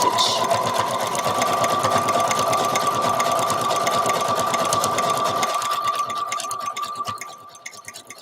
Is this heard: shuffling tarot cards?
no